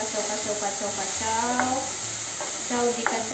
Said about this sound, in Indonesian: Masukin tomatnya, kita tumis sedikit lagi, kita kacau